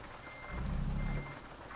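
Reversing beeps from a truck in Euro Truck Simulator, a steady electronic tone repeating over a low engine rumble that swells briefly in the middle, with no talking.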